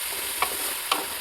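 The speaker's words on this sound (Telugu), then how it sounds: "ఆనియన్స్ వేసేసిన కొంచెం బ్రౌన్ కలర్ వచ్చే వరకు ఆనియన్స్ని ఫ్రై చేయండి." Onions frying in a pan toward brown for a chicken curry: a steady soft sizzle broken by two quick scraping stirs of a spoon, close and clear.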